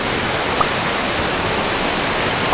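A waterfall pours in a steady, dense rush of broadband noise, loud and unbroken throughout, with no voices over it.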